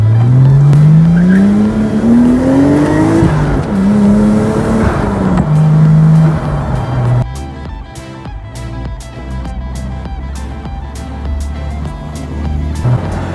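A Nissan R34 Skyline GT-R replica pulls out of a busy junction, its engine revving loud and close through rising gear pulls, then settling into a rougher, lower idle-like drone with traffic noise.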